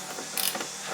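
A quarter-inch drive ratchet tightens a nut on a solar battery connection, giving a brief close creaking click over about one second.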